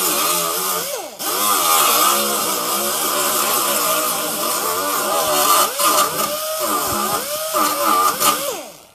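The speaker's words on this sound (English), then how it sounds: "we're just going to take this disc here and we'll just run it over the edge" A disc on a power tool roughens a fiberglass edge, a loud, sustained whining grind that rises and dips in pitch as pressure shifts, running almost continuously with one brief drop near the start.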